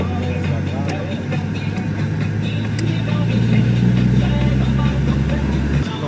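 A small boat's engine runs steadily as a low continuous hum, with voices talking over it and some background clatter.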